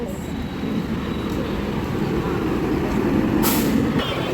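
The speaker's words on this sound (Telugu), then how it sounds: "ట్రైన్ అయితే వచ్చేస్తుంది." A train pulls into a busy suburban railway station in Chennai, a steady loud rumble of wheels and engine filling the whole clip, with a brief hiss like an air brake near the end and no speech.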